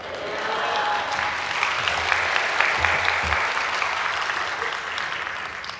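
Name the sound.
congregation applauding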